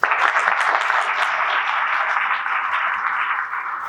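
Audience at a police community event applauding a lieutenant, a steady, even burst of clapping held for a few seconds before easing slightly.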